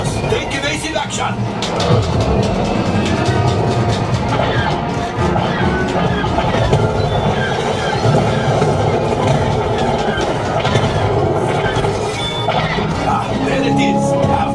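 A train on a Disneyland ride rumbles and clatters loudly and continuously, with metallic clacks and squeals, under excited voices and ride narration.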